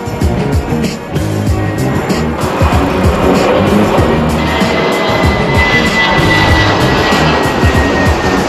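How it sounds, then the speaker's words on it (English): A powerful roar from an airplane taking off, building and sustained over several seconds with a high whine running through the loud rumble. "Planes taking off"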